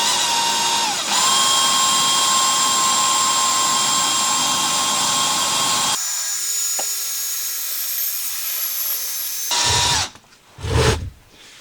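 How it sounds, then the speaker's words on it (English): A power drill whines steadily at high pitch for several seconds boring uphill into a steel lower control arm of a Honda Pilot, drops to a lower, quieter grind, then ends with a few short bursts. "drilling uphill into the steel of my lower control arm"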